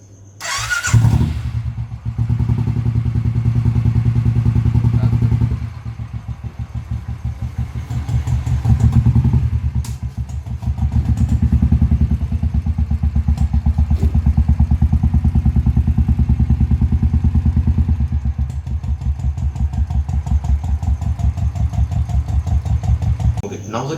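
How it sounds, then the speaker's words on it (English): Royal Enfield motorcycle idling through an aftermarket exhaust, a loud, steady low thumping rumble with brief throttle blips that swell and ease over about twenty seconds, heard alone without talk. "This is an aftermarket exhaust."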